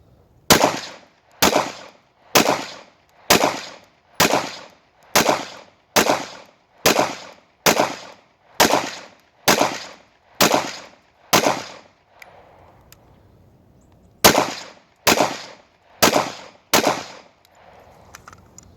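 A pistol fires a string of single shots at an outdoor shooting range, loud sharp cracks at a steady rhythm of about one per second, a short pause, then four more shots.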